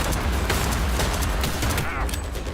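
Pistol shots ring out in Cyberpunk 2077, a rapid string of sharp reports over a heavy, rumbling backdrop of combat noise, loud and close throughout.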